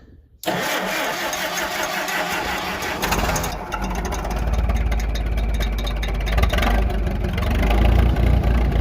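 A farm vehicle's engine cranks and fires after the gas is turned on, then settles into a loud, steady, rumbling idle that grows slightly heavier toward the end, close by.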